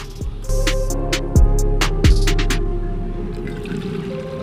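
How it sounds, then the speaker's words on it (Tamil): Black kavuni rice is rinsed in water in a kitchen, with sloshing and splashing and a few sharp knocks of grains and vessel, close and moderately loud. "இப்போ இந்த அரிசியை 2-3 வாட்டி நல்லா களைஞ்சு எடுத்துக்கணும்."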